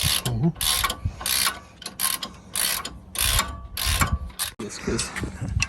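Ratchet with an 18 mm socket removing sway bar bolts on a Jeep JL, a series of rapid clicking bursts in steady rhythm, close and loud, separated by brief pauses.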